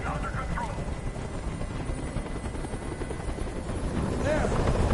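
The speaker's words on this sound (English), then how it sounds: "Tell that helicopter to get out of here." Helicopter hovering in the video game Detroit Become Human, a steady rotor drone growing slightly louder toward the end, under voices talking.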